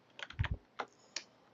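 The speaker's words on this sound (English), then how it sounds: "run the winged word adding by typing RW in the terminal" Keystrokes on a computer keyboard, about five quick clicks in a short uneven burst followed by two spaced taps, close and fairly quiet with no talking.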